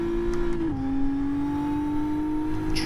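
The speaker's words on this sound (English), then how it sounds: "I can hear the engines running quite low there." A car engine holding low, steady revs in a racing video game at Fuji, a sustained droning tone that dips slightly in pitch early and then stays level, loud and close without any speech.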